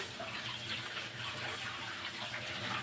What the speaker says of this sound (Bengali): আর তো চালগুলো ধুয়ে নিচ্ছিলাম